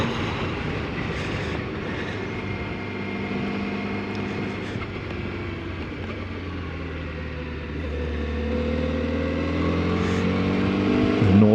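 A 2025 Honda CBR1000RR SP Fireblade motorcycle out on the road, its engine droning steadily with a layered tonal whine. The pitch rises and falls through gear changes, and the engine grows louder as it revs toward the end.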